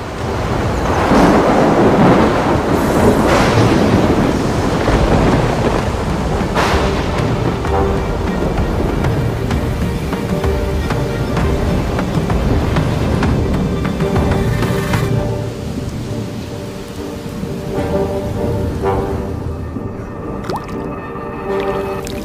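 Thunderstorm with rain out on the savanna, a loud, dense wash of rumbling thunder and steady downpour that stays heavy throughout, with drips and rolling low booms, no voices.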